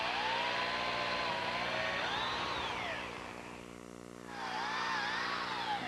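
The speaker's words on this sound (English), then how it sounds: "I'm going to drill a hole all the way through" A power drill with a 3/16 inch bit whines loudly and steadily, its pitch dipping and rising as it bores a hole all the way through, briefly easing off before revving back up.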